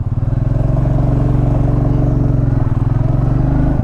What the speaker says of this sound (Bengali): চলো তো রয়্যাল এনফিল্ড নিয়ে আজকে রাইড